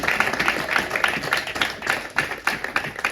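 A church congregation at a Sunday service claps in a steady rhythmic beat, close and lively, with faint voices mixed underneath.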